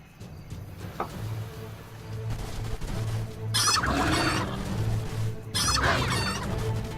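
Chickens cluck and squawk in bursts from chicken throwers in the video game Age of Wonders III, two loud flurries over a soft pulsing game background.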